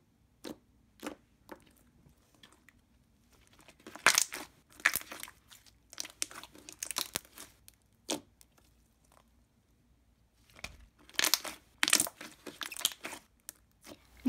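Thick, clicky white cereal-milk-scented slime squished by hand, giving quiet bursts of sharp clicks and wet crackles separated by near silence, louder clusters around the middle and end.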